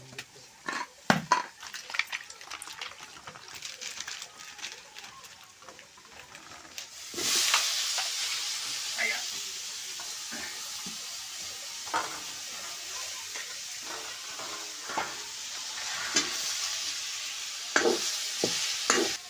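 Onion, potato and chilli fry in a pan on a wood-fired stove, starting with scattered clatter and stirring, then a steady loud sizzle that swells after a few seconds and carries on with occasional scrapes.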